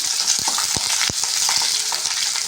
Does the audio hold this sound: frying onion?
yes